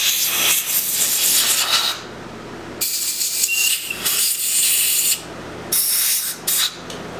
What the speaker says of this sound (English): blast around, hit it with some compressed air too